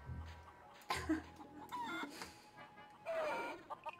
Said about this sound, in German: Da sind die Hühner hier deutlich mehr geworden.